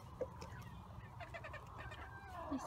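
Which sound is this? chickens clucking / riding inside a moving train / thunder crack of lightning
chickens clucking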